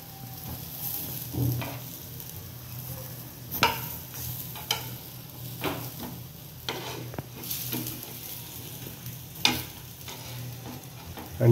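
Eggplant slices fry in oil in a pan, giving a steady low sizzle broken by occasional stirring and scraping clicks from a utensil, with no one talking.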